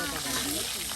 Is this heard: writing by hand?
no